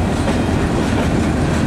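A passing train's cars roll by up close, a loud steady rumble with rhythmic clickety-clack of wheels over rail joints, no voices.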